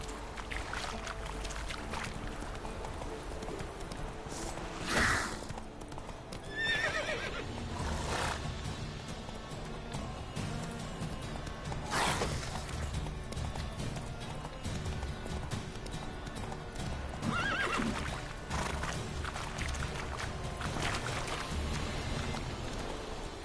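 A horse in a PS4 video game gallops with steady, close clip-clop hoofbeats running throughout, broken by a few loud, sharp neighs and whinnies standing out above the busy hoof rhythm and ambient game sound.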